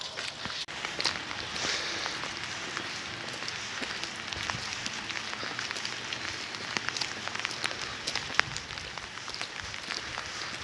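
Steady rain patters outside a village bread and pide oven, a dense continuous hiss with scattered droplet taps, even and moderately faint, with no voices.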